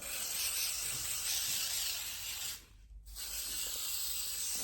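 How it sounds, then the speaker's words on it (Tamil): A steady, hissing olive oil spray runs almost continuously at close range, broken by one brief pause near the middle before resuming. "இந்த ஸ்ப்ரே அடிக்கணும்."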